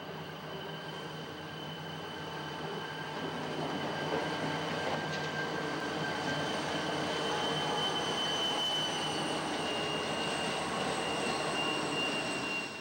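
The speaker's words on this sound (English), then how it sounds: "These units, grinding past Mike and Ike, are about the same age as the SP units we just saw" Santa Fe diesel locomotives, EMD units from the 1970s, grind past on Cajon Pass, a deep sustained rumble with high wheel squeal and metallic whine building and holding steady at a moderate distance.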